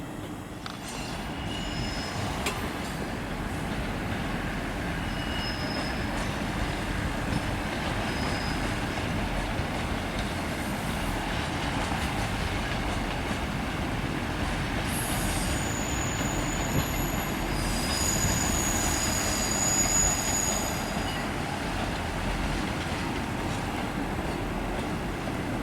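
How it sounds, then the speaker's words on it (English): South Western Railway Class 159 diesel trains rolling through a busy London rail junction, a sustained rumble of wheels on track with high metallic wheel squeals rising partway through, loud and continuous. "It's the Class 159s that South Western Railway operate."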